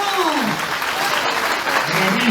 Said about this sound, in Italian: Le possiamo applaudire bene?